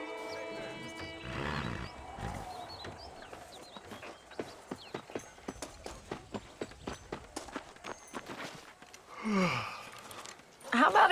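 A horse ridden in the Red Dead Redemption video game, with a whinny, then a run of steady, evenly spaced clip-clop hoofbeats and snorts near the end, all fairly quiet with some background voices.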